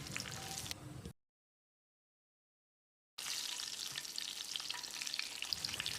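Whole spices, star anise, cloves, cardamom, fennel seeds and green chilies, sizzle and crackle in hot ghee in a pan, a steady close frying hiss that cuts out into silence for about two seconds before resuming.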